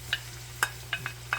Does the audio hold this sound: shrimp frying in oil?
yes